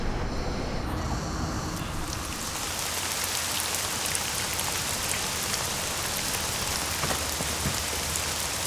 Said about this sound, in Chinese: 下那么大雨还去？